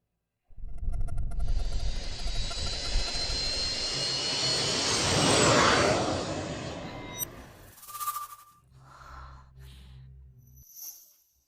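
Airliner jet engines roar steadily for several seconds during takeoff, swelling and then cutting off abruptly, followed by a brief chime and faint cabin sounds.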